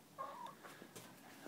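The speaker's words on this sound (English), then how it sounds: "Yep, I see there's a little chicken." A small chicken clucks a few times inside a locked coop, short soft calls heard at a distance over quiet background noise.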